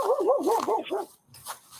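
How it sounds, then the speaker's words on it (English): A dog vocalizes up close in a short, wavering whine-like bark, followed by a brief quieter sound. "the team is joined by a dog with something to say"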